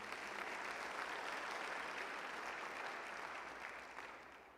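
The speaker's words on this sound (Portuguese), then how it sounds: "Quem pode aplaudir o Senhor aí por isso?" A church congregation applauds during a sermon, a continuous soft wash of many hands clapping that is steady and fairly distant before slowly tapering toward the end.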